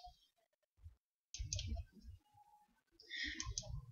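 Light taps and clicks on an iPhone touchscreen while adding a system in the Digimerge security app, a few soft clicks close by with quiet gaps in between.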